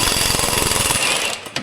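A Milwaukee power tool hammers steadily on a seized exhaust bolt of a 2013-2016 Honda Civic, a loud close rapid impact rattle that stops abruptly near the end, followed by a couple of faint knocks.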